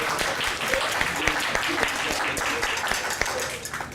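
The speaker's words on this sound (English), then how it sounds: "let's give them a round of applause to thank them for that" Audience at a panel event breaking into applause, dense steady clapping from a roomful of people that holds for the whole stretch, with some voices underneath.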